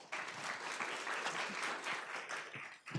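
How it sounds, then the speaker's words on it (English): Audience applause at a school board meeting, a steady wash of many hands clapping at moderate distance that tapers off toward the end. "Round of applause."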